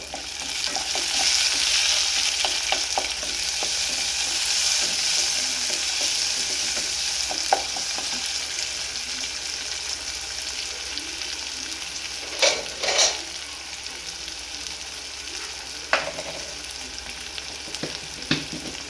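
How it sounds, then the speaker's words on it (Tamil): Tomatoes and onions sauté in a pan for a Malabar fish curry, giving a steady, close frying sizzle broken by occasional spatula scrapes and stirring knocks, with no voices. "தக்காளி வதங்கிட்டு இருக்கோம்."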